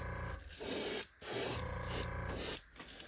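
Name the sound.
airbrush spraying paint onto a jerkbait lure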